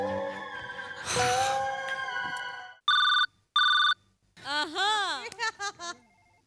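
A telephone rings in two sharp electronic bursts, heard after a stretch of other sound and followed by a quick warbling tone, amid a comedy sketch with voices nearby.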